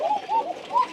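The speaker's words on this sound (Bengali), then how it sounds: "এই খাঁচার নিচেও, একদম নিচে অসংখ্য কবুতর" Pigeons kept in cages on a hobby farm, some roosting on the floor beneath them, give short rising coos in quick succession, close by and filling the space.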